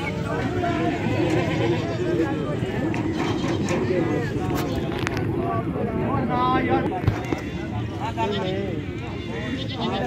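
Goats bleating amid a busy Faisalabad livestock market, with a breeder buck among the animals; repeated bleats rise over a dense crowd of voices and steady market bustle.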